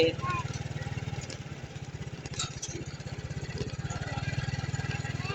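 A farm tractor ploughs a field for planting sugarcane, its engine chugging in a steady, fairly loud rhythmic idle-like drone throughout.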